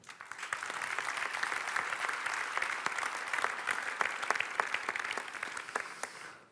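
Audience at a customer-relations awards evening applauds steadily, a dense, even wash of many hands clapping at moderate distance for several seconds before fading out.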